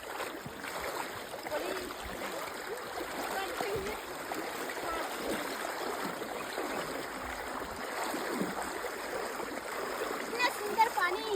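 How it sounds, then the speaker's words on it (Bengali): A village river near a home, water flowing and splashing steadily at moderate volume, with a continuous rushing wash and occasional louder splashes. "এটা হচ্ছে আমাদের এখানকার নদী।"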